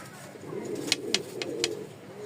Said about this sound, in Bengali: চারটা কবুতর ছাড়ছি